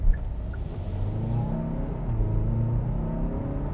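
A 2026 Kia Sorento X Line SX with a 2.5-liter turbo engine accelerates onto a highway in normal mode, its engine rising in a steady, loud rumbling drone heard from inside the cabin, with no speech.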